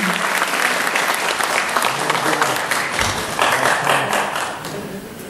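Sustained applause from an audience at a ceremony honouring teachers, dense clapping filling the room for several seconds and tapering slightly at the end.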